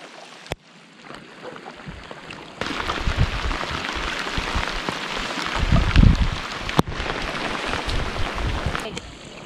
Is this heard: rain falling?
yes